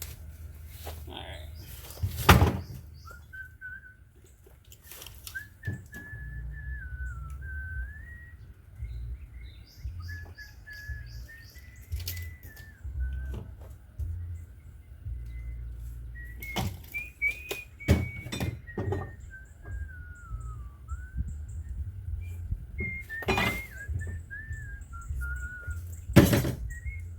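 A man whistles a wandering, random tune while working on a pallet bench with planter boxes, long melodic phrases broken by sharp clatters of wood and tools nearby.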